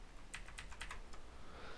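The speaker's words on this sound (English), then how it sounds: "you might hear my keyboard go off quite a lot" Keys on a computer keyboard are pressed down hard in a quick run of about six sharp clicks, then a pause, all faint and close over a soft background hiss. No voices.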